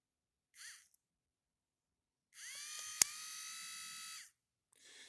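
A small DC electric motor powered straight from a battery whines at a high pitch for about two seconds in a quiet room, with a brief earlier buzz, a sharp click midway and another short whir at the end.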